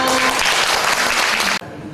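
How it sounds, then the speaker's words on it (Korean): Audience at a Korean church peace gathering claps together in a dense, loud round of applause that cuts off abruptly near the end. "이루겠다는 다짐의 박수를 함께 치시겠습니다."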